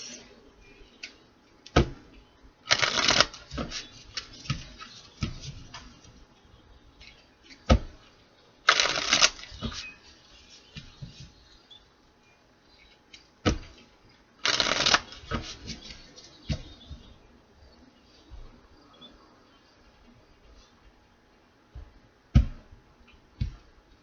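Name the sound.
shuffling cards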